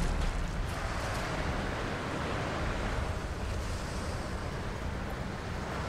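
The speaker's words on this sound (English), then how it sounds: "Back to the windy section of the mountain." Steady wind roars across a mountainside in the Tomb Raider video game, a broad, constant rush with no distinct gusts or other sounds.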